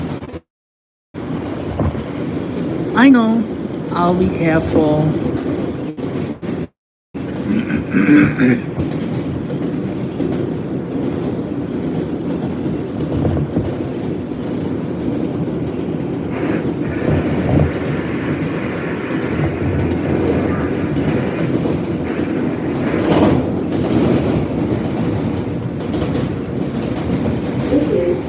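An R68 G subway train rolls into the Coney Island yard, its wheels clattering and rumbling steadily at moderate distance for the full stretch, with a brief spoken exchange early on.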